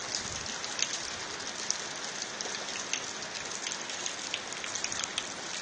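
Steady rain falling in Port Harcourt, carrying black soot and running off a roof, a dense even hiss of drops with faint close patters, no voices.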